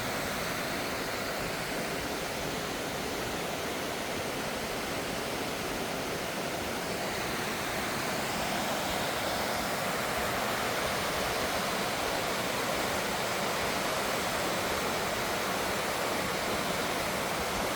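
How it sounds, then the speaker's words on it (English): A waterfall roars steadily and loudly throughout, a dense unbroken rush of falling water on a snowy winter morning hike, with no voices over it. "We'll go right up underneath the waterfall."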